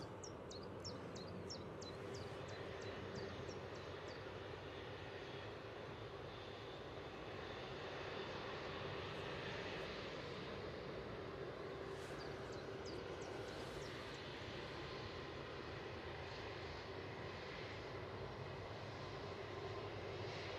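An EasyJet airliner departs runway 05 left at Manchester Airport, a steady distant engine roar that holds throughout at low level, with faint bird chirps over it and a brief word spoken.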